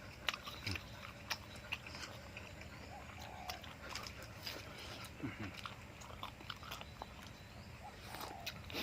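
Someone bites and chews large steamed squid served with a seafood dipping sauce: close, wet chewing and crunchy bites repeating throughout, with occasional faint mouth sounds.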